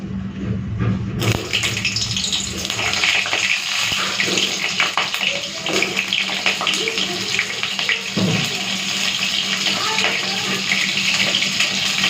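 Pieces of pointed gourd (potol) frying in hot oil, a loud, dense hiss that carries on without a break from start to finish.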